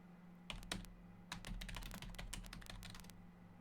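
Rapid bursts of keystrokes clatter on a computer keyboard in a He-Man adventure game, irregular clusters of close, crisp taps over a low steady hum.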